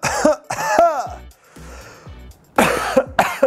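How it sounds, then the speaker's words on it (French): Deliberate coughing for a Huawei smartwatch health test: several sharp, close coughs and throat clearings in bursts, separated by short quiet gaps. "Ah, faut que je tousse."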